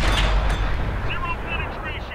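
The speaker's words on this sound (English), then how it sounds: "Yeah, some completely ineffective shots there." Heavy tank cannon fire from the World of Tanks console game: a few deep, booming shots land close together at the start, then trail off into rumbling decay and scattered metallic pings.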